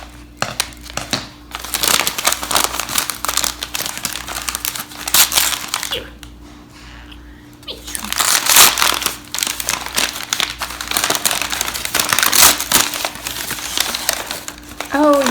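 Paper wrapping is crumpled and crinkled while purchased succulents, crystals and rocks are unwrapped, with a steady run of loud, close rustling and crunching bursts and a brief quieter pause in the middle.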